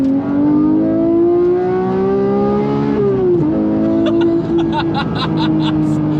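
A Porsche GT3 fitted with a JCR exhaust revs loud and close, its engine note climbing steadily, dipping at a gear change and rising again, with a brief voice heard during the revving.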